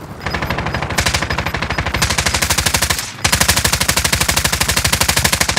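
Sustained automatic gunfire in a video game shooter, rapid evenly spaced bursts hammering loudly and continuously with a brief gap partway through before firing resumes even louder.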